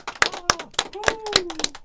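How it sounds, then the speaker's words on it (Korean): A few people clap in a radio studio, sharp separate hand claps in an uneven rhythm, close and fairly quiet, with a voice speaking briefly over them. "박수 한번 쳐야죠 또."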